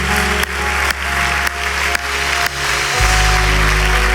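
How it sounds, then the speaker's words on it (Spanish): Loud, dense applause from a large church congregation fills the space, with a few sharper bursts, then a steady low hum takes over near the end. "Le damos un fuerte aplauso al Señor"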